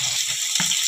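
Chopped medium onions frying in two ladles of hot oil in a kadai, a steady close sizzle running throughout with a brief stir or clatter near the middle.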